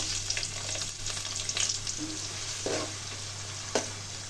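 Onions frying in oil with bay leaf and cinnamon for pulao, giving a steady broadband sizzle with a few soft stirring scrapes and a couple of sharper clicks near the end, no voices.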